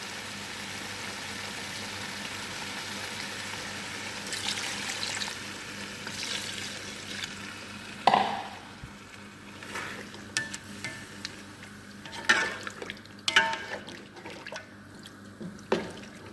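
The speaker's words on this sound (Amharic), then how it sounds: "አሁንም ትንሽዬ ውሃ እጨምርበታለሁ።" Water splashes into tomatoes frying in a pan for Arabic chicken machboos, with a low sizzle throughout and a few sharp splashes and drips at close range.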